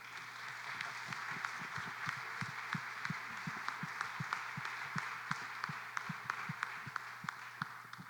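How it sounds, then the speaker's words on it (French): Applause from an audience at an education event in Algonquin, heard as faint, sparse, distinct claps spaced irregularly over a steady low hum, more like scattered hands than a full ovation. "Puis un bel main d'applaudissements pour vous,"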